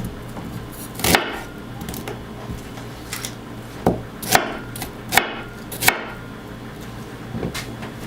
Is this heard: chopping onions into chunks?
yes